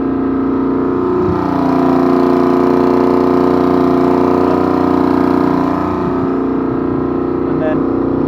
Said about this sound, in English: you can rev it up. That's now full throttle.